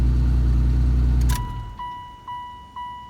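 Car engine idling with a steady low rumble for about a second before being switched off, followed by a bright repeating door-ajar chime pulsing about three times in a quiet interior.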